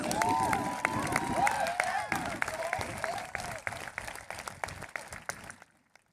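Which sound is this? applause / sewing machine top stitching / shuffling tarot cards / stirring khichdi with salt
applause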